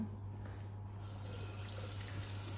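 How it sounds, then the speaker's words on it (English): Tap water runs steadily into a kitchen sink while hands are washed during home cooking of a Lancashire hotpot, a constant close splashing flow with no talk. "Just let me wash my hands a minute."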